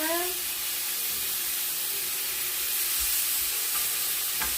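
Skirt steak sizzling loudly in a cast iron skillet after being flipped, a steady broadband hiss with a few brief scraping sounds partway through and near the end.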